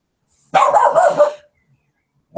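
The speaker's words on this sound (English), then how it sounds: "excuse my dog" A dog barks in a short burst of about a second, close and fairly loud, with a rough yapping quality that trails off, followed by near silence.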